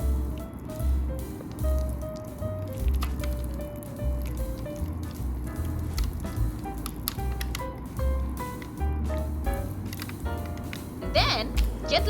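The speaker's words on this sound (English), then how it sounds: "Pour the batter into the prepared baking pan." Banana bread batter with chocolate is poured into a prepared baking pan, making soft wet squishing and dripping sounds over a low background hum.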